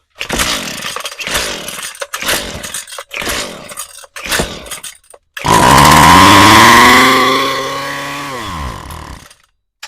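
A Husqvarna two-stroke string trimmer gives several choppy, sputtering pull-start bursts, then catches and roars loudly up close for a few seconds before winding down and cutting out into silence.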